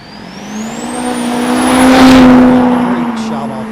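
Diesel drag racing truck at the NHRDA Texas Diesel Nationals launching hard off the line with its turbo spooled, a loud rising engine roar and high turbo whine building over a few seconds, with an announcer talking over it.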